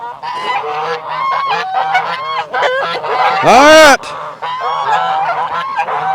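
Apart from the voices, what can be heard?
geese honking on a farm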